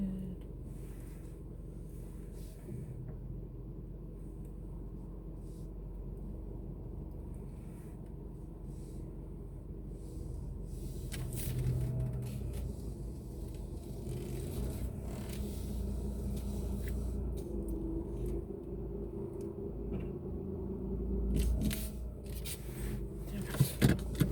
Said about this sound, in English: What is wrong with this car?